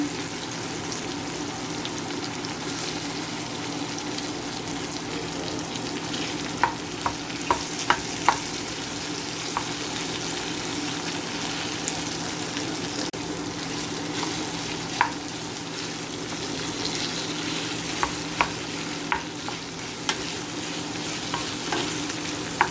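Pork browns in a hot pan with a steady, continuous sizzle, broken by occasional scraping clicks as it is stirred with a utensil.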